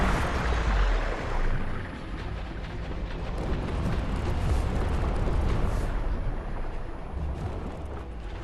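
A missile launcher fires in the game Biomutant, giving a loud rumbling blast with deep booming lows that rolls on as a continuous roar.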